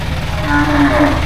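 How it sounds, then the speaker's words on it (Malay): A cow brought for qurban sacrifice gives a low, drawn-out moo, loud and close, over a steady outdoor rumble. "Lembu sudah sampai."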